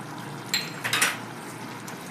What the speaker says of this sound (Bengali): ভালো করে মিশিয়ে নিলাম